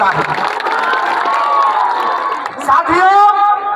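Loud crowd at a political rally in Jharkhand cheers and shouts continuously, a dense mass of voices and whoops swelling and dipping briefly before surging again.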